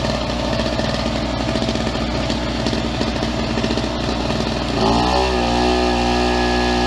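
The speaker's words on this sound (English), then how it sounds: "Let the engine warm up for about 5 minutes, and now we'll go ahead and put it on load." A Pulsar PG1202S portable generator runs loud and close while warming up, its small engine chugging with a steady rapid pulse, then the pitch shifts partway through into a smoother, steadier drone.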